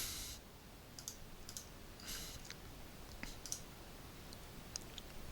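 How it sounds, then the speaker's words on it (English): Light clicks from a computer mouse, a few sparse sharp taps scattered over faint room hiss, quiet and close. "you click Save"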